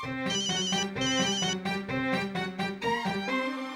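A phone rings with a looping musical ringtone, a rhythmic run of bright electronic notes repeating roughly every half second, loud and near without speech.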